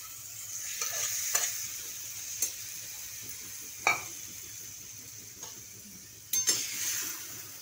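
Cooked vajdi (tripe) sautés in masala in a pan with a quiet, steady sizzle, broken by several sharp spoon scrapes and clinks against the pan. No one speaks.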